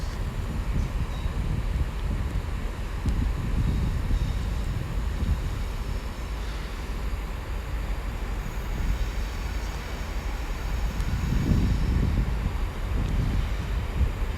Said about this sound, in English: first freight train of the day, and we got a looks to be a double-headed freightliner from Southampton going to Trafford Park